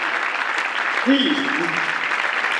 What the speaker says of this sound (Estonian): Ja las aplausid